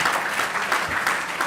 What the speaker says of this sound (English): I request you to please give them a big round of applause